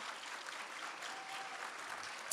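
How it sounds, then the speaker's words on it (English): Steady applause from an awards-ceremony audience, a dense, even patter of many hands clapping at moderate volume without pause, with no talking over it. "give her a round of applause, Miss Tiffany Colley-Bailey."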